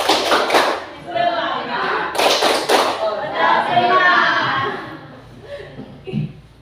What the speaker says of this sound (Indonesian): Sekarang kita berikan tepuk semangat untuk saya